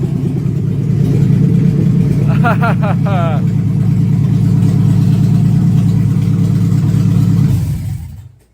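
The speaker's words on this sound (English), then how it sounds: "That's an engine." A 1974 Mercury Capri race car with a swapped 2005 Mustang engine runs steadily and roars for several seconds under excited shouting, then cuts off abruptly near the end.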